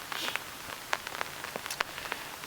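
Rain falls outdoors in a steady patter, with scattered louder drops hitting a surface close by and no talking.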